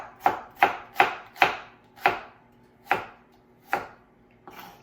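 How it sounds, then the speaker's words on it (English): A knife slices lengthwise through a halved onion on a cutting board for japchae, eight crisp, close chops landing in an uneven rhythm, with no voices. "Because I want onion lengthwise, I'm gonna cut it in half and just slice it like this."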